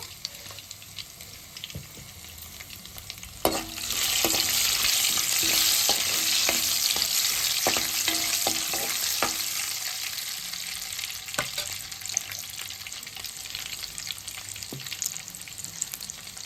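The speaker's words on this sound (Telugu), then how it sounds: "రెండు స్పూన్లు తాలింపులు వేసుకోవాలి" Urad dal, chana dal, cumin and mustard seeds hit hot oil with a sudden loud sizzle that crackles steadily, then gradually quietens with scattered pops and clinks.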